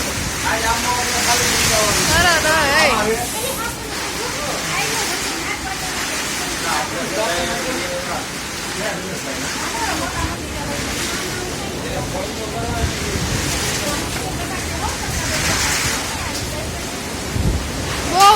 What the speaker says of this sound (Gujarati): ફૂલ વાવાઝોડું આવ્યું બહુ